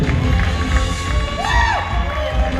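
A wedding reception crowd cheers and claps for the newlyweds in a dense, steady roar, with a single rising whistle or whoop cutting through midway.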